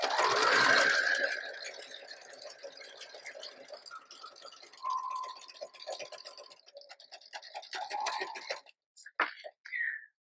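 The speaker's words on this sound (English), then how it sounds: "And then I'm just going to sew down this side, which I've already sewed one time" A sewing machine whirs loudly up close at first, then continues more faintly and unevenly as it stitches a second pass down the side seam of a piece of fabric.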